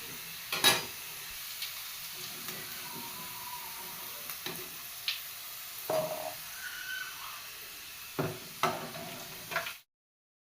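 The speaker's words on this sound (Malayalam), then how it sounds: "കുറച്ച് ഫ്രൈ ചെയ്യാനിട്ട് കൊടുക്കാം." Snacks frying in oil in a pan for a jaggery-coated sweet, a steady soft sizzle with occasional stirring scrapes and clinks, ending abruptly in silence.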